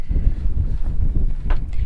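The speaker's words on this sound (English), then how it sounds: "It's a bit windy." Gusty wind buffets the microphone aboard a sailboat on a Pacific crossing, a loud low rumbling roar with brief rustling.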